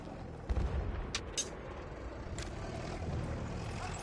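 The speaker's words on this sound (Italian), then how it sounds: "Ci stanno smortaiando." Mortar fire during an Incursion match on the Sinai map in a multiplayer shooter: a few distant dull thumps and sharp cracks over a low rumbling battlefield backdrop, fairly faint.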